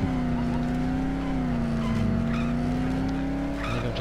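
Car engine and tire skid sounds from the Dead Island video game, a loud sustained engine drone with squealing layered over it, continuous throughout.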